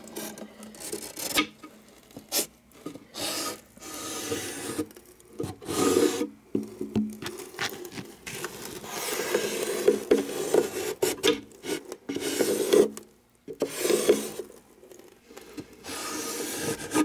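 A handsaw cuts a lip into the inside of a wooden beehive top cover, giving a run of close, rasping back-and-forth strokes with short pauses between bursts.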